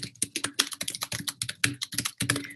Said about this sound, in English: I'm just typing in here